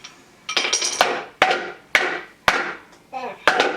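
A toddler bangs a ball with a toy hammer, about seven sharp, hard knocks in an uneven rhythm, close and loud, each followed by brief rattling, with a voice talking briefly among the hits.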